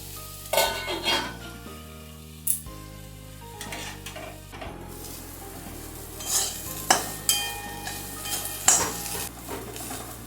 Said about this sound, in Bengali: মাঝে মাঝে ঢাকা খুলে এটা একটু উলট পালট করে দিচ্ছি তাহলে তাড়াতাড়ি করে ভাজা হয়ে যাবে